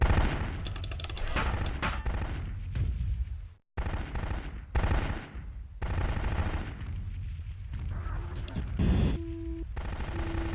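Machine gun fire in the MechWarrior 2 video game rattles in rapid, loud bursts, broken by a brief silent gap and later bursts, with a steady mechanical rumble underneath.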